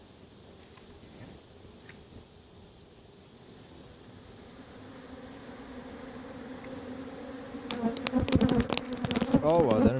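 Dense, steady buzzing of many honey bees close by at a drone-laying hive, growing louder and more agitated toward the end with sharper bursts.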